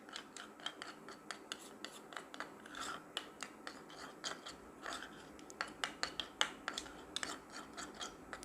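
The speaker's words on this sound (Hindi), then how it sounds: "अब इसको अच्छी तरह मिक्स करें।" Lemon juice is stirred into a kalonji skin pack in a small bowl, giving faint, quick scraping and rubbing strokes in an uneven repeated rhythm.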